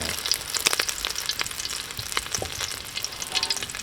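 Thai-style omelette frying in a pan of hot oil, with a steady, close crackling sizzle and occasional sharper pops and stirring clicks throughout, no talking.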